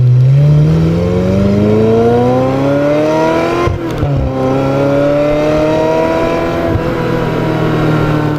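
A Ferrari 355 Spider V8 engine revving up hard under acceleration, a loud close wail climbing steadily in pitch, then a brief break at a gearshift before it climbs again.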